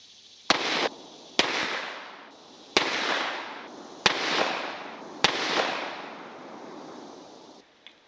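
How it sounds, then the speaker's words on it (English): Five loud, sharp pistol shots from a Sig handgun fitted with a Romeo M-17 optic, firing 124 grain Gold Dot rounds at 25 yards. The shots are evenly spaced and each one rings out into a short decaying echo. "A final 5-round group fired after the last drop test, 25 yards, bag supported"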